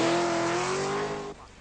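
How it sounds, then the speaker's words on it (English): A V8-engined Triumph TR7 rally car on a forest rally stage gives a loud, sustained close engine roar with a steady high tone, then cuts off abruptly near the end. "Roger Clark is giving his V8 engine Triumph TR7 its first forest outing"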